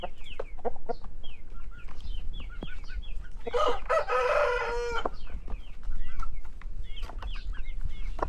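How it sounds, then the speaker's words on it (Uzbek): A large rooster, said to weigh six and a half kilograms, crows once in a long, loud call amid repeated short clucks and scattered fowl chatter close by. "Olti yarim kiloli xo'roz."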